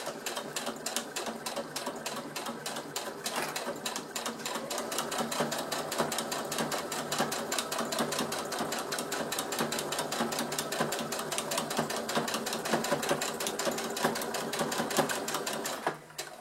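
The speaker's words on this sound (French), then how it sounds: "on fait bien notre point d'arrêt au début et à la fin. Et on suit tout le long notre couture." A sewing machine runs steadily for about sixteen seconds, stitching a table placemat seam with backstitches at the start and end, its fast needle rattle continuous and close with no talking.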